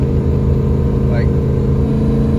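A 2007 Ford F-350 Powerstroke diesel pickup accelerates at full throttle while towing about 30,000 lbs, giving a loud, steady low engine drone from close by.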